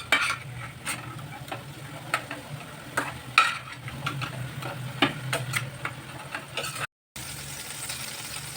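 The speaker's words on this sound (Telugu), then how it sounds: "పచ్చి వాసన పోయే వరకు ఫ్రై చేసుకోవాలి" Spinach for a palakura curry sizzles in a pan as it is stirred, with a continuous frying hiss and frequent scraping taps of the spatula, close and fairly loud; no voices.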